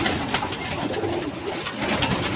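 Restless pigeons coo softly in a loft, with low, throaty murmurs repeating continuously under a noisy background, close and fairly quiet.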